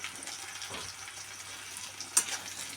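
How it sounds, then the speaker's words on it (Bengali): Chopped onion, garlic and chili frying in a pan for a tomato bharta, a quiet, steady sizzle with a few soft stirring scrapes close by. "এটা একবার ভালোভাবে নাড়াচাড়া করে ভেজে নেব"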